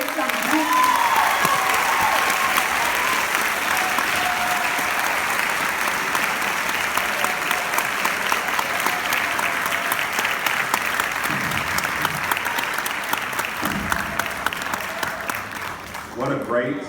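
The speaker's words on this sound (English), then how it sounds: "Give yourselves a round of applause and have a great summer." Sustained applause from a graduating eighth-grade class at a middle school commencement, dense steady clapping filling the space for about sixteen seconds with faint voices and cheers mixed in before it tapers off.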